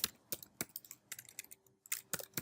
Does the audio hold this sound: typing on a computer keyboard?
yes